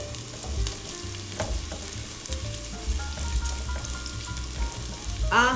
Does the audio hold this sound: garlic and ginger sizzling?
yes